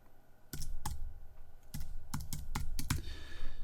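Keys clatter on a computer keyboard in short irregular bursts of clicks, close and fairly loud against a quiet room, while a book is written in Vellum.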